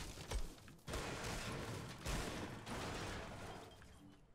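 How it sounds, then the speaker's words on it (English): Loud Fortnite shotgun blasts, three heavy booming shots spaced about a second apart, each followed by a sustained rumble of battle noise, with no talking. "this guy just got shotgunned"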